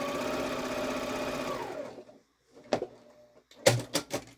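A sewing machine stitching small quilt blocks runs steadily with a fast, even whir for about two seconds, then stops, followed by a few soft knocks and clicks as the fabric is handled.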